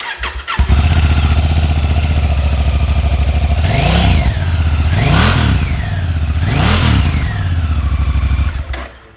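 A 2017 Honda CRF1000L Africa Twin with 1,396 miles fires up and settles into a loud, close idle, then three sharp throttle blips rise and fall before the engine cuts off.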